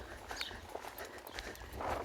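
A horse lopes around an arena, its hooves thudding in a soft, uneven rhythm on the footing, faint and fairly distant with a low rumble of background noise.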